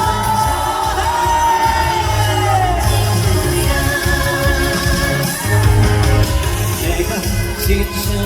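An outdoor audience at the Yeongdong dried persimmon festival in Chungbuk shouts and cheers at a trot music performance. The roar is loud, dense and continuous, with yells and whoops rising throughout.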